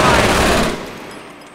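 Machine gun in Company of Heroes fires a rapid burst of rattling shots, loud and close, then cuts off into fading echo.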